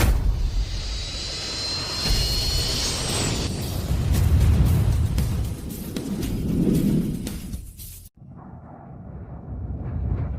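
Airplane coming in for an emergency landing, a loud, sustained engine roar with a rumbling low end that swells and then cuts off abruptly, leaving a fainter hum.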